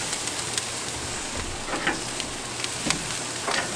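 Chicken wings sizzle on a grill right after being flipped, making a steady hiss with scattered pops and crackles. The frying noise is fairly close and continuous, with no voices.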